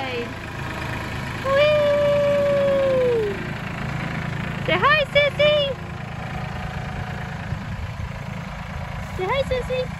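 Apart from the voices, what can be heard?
tractor engine during a ride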